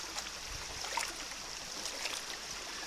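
A gold pan shaken in water while panning, giving soft sloshing and trickling with faint gritty swirls, steady and close for a few seconds, no talking.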